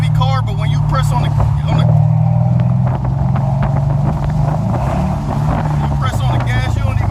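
A heavy Mercedes-Benz CL with its windows down accelerates, its engine making a loud, steady low drone under rushing wind noise while someone talks over it throughout.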